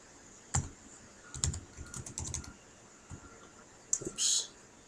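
Light keystrokes tap on a computer keyboard while a Unix command is entered during an Oracle Solaris virtual machine installation, arriving in short irregular clusters with pauses, close and fairly quiet.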